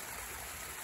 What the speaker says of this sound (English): we're down here at the creek